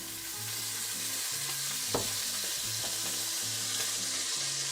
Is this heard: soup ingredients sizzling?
yes